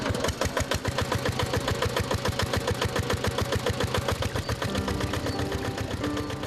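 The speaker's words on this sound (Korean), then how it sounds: "저 멀리 수로에 연결된 파이프를 끌어다가 펌프에 연결해 엔진을 돌린다." Small motorized water pump engine running steadily beside an irrigation canal on a Philippine sugarcane farm, a close, loud, rapid chugging pulse that holds constant throughout with no voices.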